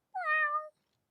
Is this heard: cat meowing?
yes